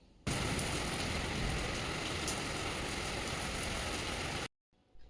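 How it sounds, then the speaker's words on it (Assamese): Steady, dense rain pours in hot weather in Guwahati, a loud continuous hiss close by that stops abruptly near the end, with no voices. "গৰমত বৰষুণৰ শব্দটো শুনিলেও খুব ভাল লাগে"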